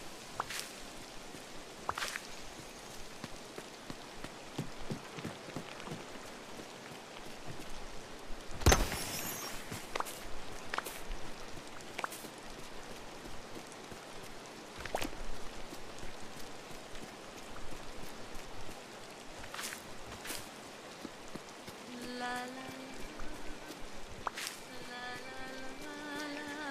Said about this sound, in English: The rain picked up.